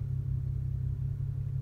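Steady low exhaust drone heard from inside a BMW F30 335i with a catless downpipe, windows up, a deep muffled rumble that stays even and fairly quiet throughout.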